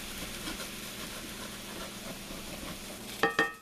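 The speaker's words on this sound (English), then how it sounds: "I'm going to start trying to scrape up some of them brown bits" A pan of browned drippings for pork loin gravy sizzles steadily at close range, then two quick scraping strokes near the end as the stuck-on bits are worked loose.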